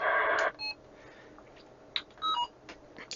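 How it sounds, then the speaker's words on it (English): A few short electronic key beeps and tones from a Retevis RT95 dual-band two-way radio, some in quick pairs, sound close and clear against a quiet background with no talking. "the beep we need to switch off in the menu"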